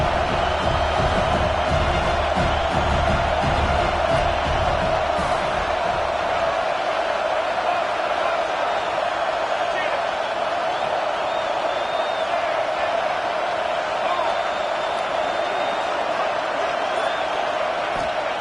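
A dense, steady roar of a huge Alabama Crimson Tide football crowd at Saban Field on third down fills the whole stretch, loud and unbroken, with a voice faintly underneath.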